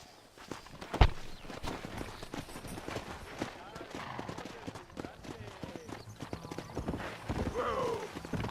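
Horse hooves clip-clop in steady walking rhythm in Red Dead Redemption, with a sharp thump near the start and a whinny toward the end, while someone talks over the game sounds.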